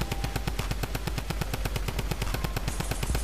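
Rapid machine gun fire in the video game Fortnite, a dense, evenly spaced stream of shots continuing without pause at moderate loudness.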